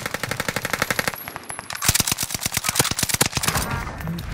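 Rapid automatic gunfire from a weapon in a multiplayer shooter game, loud close bursts of evenly spaced shots with a brief pause before a second, denser volley.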